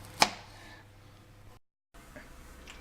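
One sharp knife chop on a board cutting onions, close and crisp, followed by quiet room tone and a brief moment of silence.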